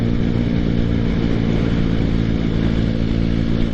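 A motorcycle cruising in top gear at speed with the throttle rolled off, steady loud engine drone and wind rush, continuous and close without any revving.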